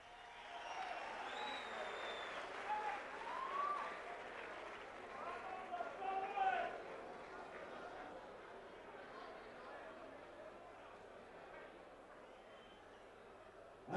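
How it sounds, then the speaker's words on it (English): Faint crowd applause and chatter in an arena at a professional boxing event, a boxer leaving the ring after his bout, rising briefly then settling into a low, distant murmur. "Give them a big round of applause as he leaves the ring"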